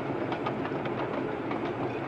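Trains at a station in The Great Escape (1963) give off a steady loud rumble with a faint rhythmic clatter of wheels running throughout, no talk.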